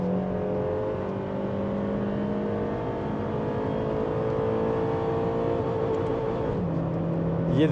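A Honda Civic FD6 1.6 i-VTEC LPG car engine drones steadily at high revs throughout, its pitch climbing gradually as it accelerates, loud and close with constant road and wind noise.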